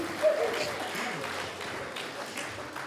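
Lingering applause from an audience at a community keynote lecture, a soft, fading patter of clapping mixed with some murmuring voices.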